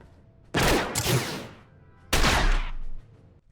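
Two loud, sharp volleys of blaster rifle fire from a Star Wars: The Old Republic trooper battle, the first lasting about a second and the second following after a short pause, each fading into a quiet tail.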